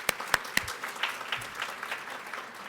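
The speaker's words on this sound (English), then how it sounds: "Let's clap it up." Scattered applause from a morning conference audience at the Saunders College of Business Power Your Potential event, fairly faint and thin with a few sharp claps standing out, swelling briefly at the very end.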